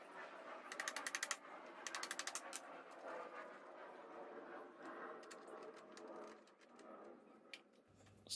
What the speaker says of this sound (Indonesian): Setelah baut terpasang sempurna, bisa kita kencangkan.